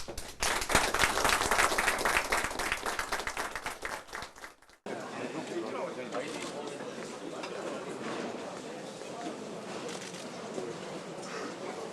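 Crowd applause at a naval fleet command base, a dense wash of clapping and cheering that fades, then continues more evenly at lower level with voices mixed in.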